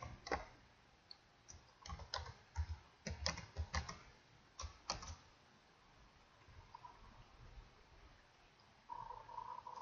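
Password being typed on a computer keyboard during a software install: irregular bursts of light key clicks, close but quiet, thinning to a few taps, then a faint steady hum.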